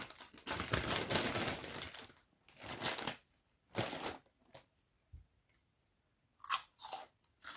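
Crunchy pork rinds being eaten close to the mic: loud bursts of crisp biting and chewing crunches, separated by brief quiet pauses, with no talking.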